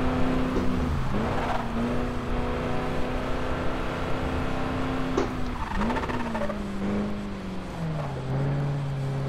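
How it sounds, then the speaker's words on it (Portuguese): Tires squeal over a steady car engine in the driving game Crash Time 5, the drone holding level then shifting pitch as the car accelerates and slides, loud and continuous with no talk. "Canta o pneu, você viu?"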